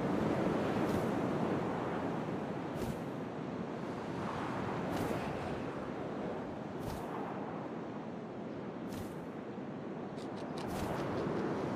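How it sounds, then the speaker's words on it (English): Steady wind in the game What Remains of Edith Finch during an owl sequence, a continuous broad whooshing rush with gentle swells and a few brief gust bursts, no voices. "First, all I heard was the wind."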